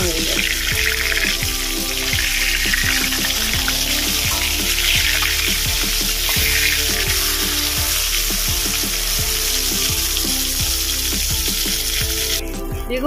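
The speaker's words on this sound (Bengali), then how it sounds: "বেগুনটা একটা দিক ভাজা হয়ে গেছে" Eggplant slices frying in hot oil in a kadai give a steady, loud, continuous sizzle throughout, with rhythmic low knocks and clatter beneath it and no talk.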